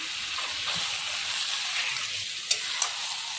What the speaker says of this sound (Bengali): এবার ম্যারিনেট করা খাসির মাংসটা আমি দিয়ে আবার কষতে থাকবো।